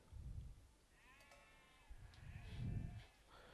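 Sheep bleating in the real-time strategy game Age of Empires II, a couple of soft bleats rising in the middle and toward the end over quiet game ambience; no talk.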